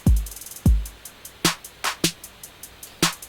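Electronic drum beat built from default preset sounds for future bass: two deep booming kicks, then sharp snare-like hits and quick ticking hi-hats in a steady pattern, played alone and up close.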